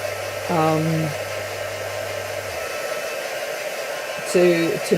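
A hair dryer blows steadily up close to dry pickled raspberry craft glue, a constant whooshing whir throughout, with short bursts of voice over it near the start and end.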